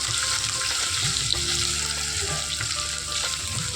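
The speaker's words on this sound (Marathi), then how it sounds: "हे खडे मसाले आणि लसणाचा वास जाईपर्यंत हे फ्राय करून घ्या." Whole spices, ginger-garlic paste and curry leaves frying in a pan for paneer pulao, giving a steady close sizzle with small crackles and pops throughout, no talking.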